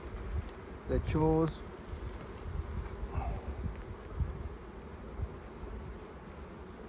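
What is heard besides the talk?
honey bees buzzing in an open hive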